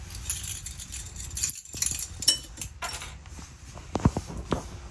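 A ring of gray entry-door keys and silver compartment keys for a 2022 Crossroads Zinger 252BH travel trailer jangles close by in repeated metallic clinks and rattles, irregular and bright, with no talking.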